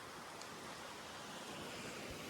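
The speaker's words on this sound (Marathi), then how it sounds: "हवा बघा, वाऱ्याचा आवाज बघा." Steady wind blowing across open farm fields in the rainy season, a continuous broadband rush without breaks, loud and close, with no voices.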